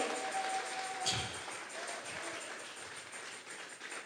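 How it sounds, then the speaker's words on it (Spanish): A church congregation claps hands for God during a sermon, a continuous wash of applause that sounds fairly distant and soft, holding steady and fading slightly toward the end. "Dele fuerte esas palmas al Dios de la gloria"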